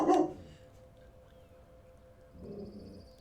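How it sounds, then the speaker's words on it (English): A single loud bark from an 80-pound German Shepherd guarding the house opens the clip, then a quieter, muffled bark or grumble follows about two seconds later over a low room hum. "Excuse the dog."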